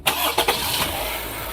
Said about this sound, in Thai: เครื่องยนต์ก็สตาร์ททีเดียวติดนะครับ